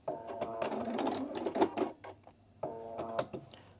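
A Bernina sewing machine stitches a blazer in two short close bursts of rapid needle chatter separated by a brief pause.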